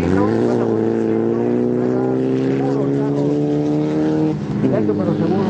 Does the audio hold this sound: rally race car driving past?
yes